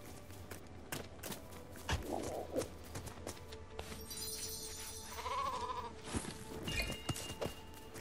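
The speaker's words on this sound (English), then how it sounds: "There you go, we got a sheep in here." Sheep bleats from a Lego Fortnite game as an animal is penned, a couple of short mid-range calls heard briefly amid footsteps and game ambience, fairly faint and close.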